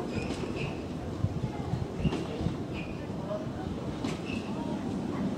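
An Isle of Wight Island Line train arrives, rolling in with a broad rumble and a few scattered clacks from the wheels. Birds may chirp faintly in the background.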